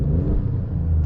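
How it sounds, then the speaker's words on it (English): Alfa Romeo Stelvio Quadrifoglio with its turbo engine in neutral, a brief deep low rumble as it revs, heard close and steady for about a second. "And you can get some turbo when you just rev it like that."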